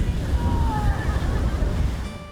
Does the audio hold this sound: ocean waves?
yes